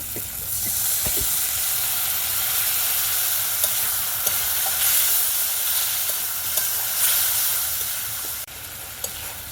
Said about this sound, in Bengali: মশলাটা ভালো করে কষিয়ে নিলে গন্ধটাও খুব ভালো ছাড়বে।